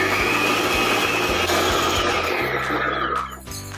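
An electric stand mixer kneads bread dough for Japanese bread with a loud, continuous whirring motor and a rhythmic thumping, then winds down near the end.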